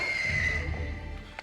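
A horse in The Fellowship of the Ring gives one shrill, sustained neigh that sounds close and harsh, then fades, with a faint thud at the end.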